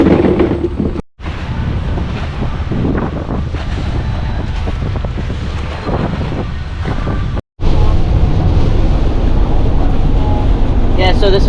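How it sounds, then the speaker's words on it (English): Strong hurricane wind buffets the microphone in continuous roaring gusts, with heavy rain falling in the woods on Florida public land. Two short dropouts break the steady, loud rush. "It's pouring down rain, gusts of wind, probably 25, 30 knots."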